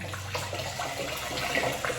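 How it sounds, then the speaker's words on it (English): Cabbage juice pours through a straining bag in a kitchen, a steady trickling splash of liquid with a faint low hum underneath. "There's my liquid. I'm just gonna pour it through the bag."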